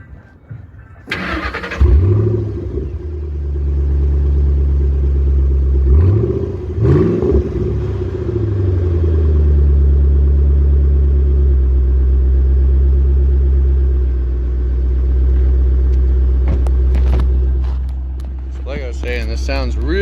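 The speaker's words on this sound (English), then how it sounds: "I'm going to do a quick startup here as well with the exhaust." A 2008 Ford Mustang engine cranks and fires, then settles into a steady, loud exhaust rumble through small mufflers, with a brief blip of revs early on and a voice speaking near the end.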